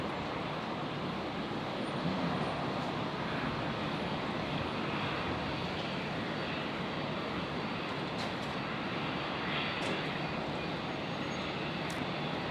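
A Qantas Link Embraer 190 jet lines up for departure at Brisbane airport, a distant, faint, steady engine rumble and hiss that holds evenly throughout with no talk.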